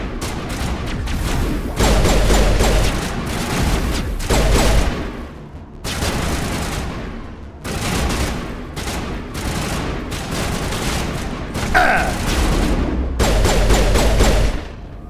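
Pistol gunfire in the Mass Effect video game on Virmire: loud, repeated bursts of rapid shots in clusters with brief pauses, dense and near, with heavy booming impacts throughout.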